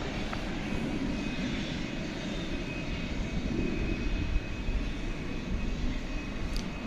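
An American Airlines jet departs DFW Airport at night with a continuous, steady engine roar from fairly close, a dense rumbling whoosh that stays loud throughout without any talking.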